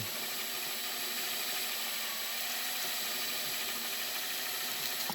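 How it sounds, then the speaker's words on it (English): A power drill runs steadily and continuously, whirring as it gently bores off the wheels of an old plastic Matchbox Super Kings articulated tanker toy, close and loud with no pauses. "just drill off these wheels"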